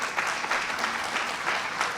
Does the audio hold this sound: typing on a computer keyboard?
no